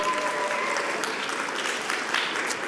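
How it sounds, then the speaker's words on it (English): Sustained audience applause, a dense, steady patter of many hands clapping throughout. "Let's give a round of applause"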